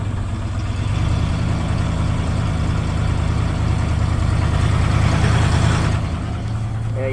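A flooded 1980 Ford F100 pickup engine runs at a rough idle, a loud steady low rumble with uneven pulsing that swells slightly partway through and then settles, heard up close with no talking.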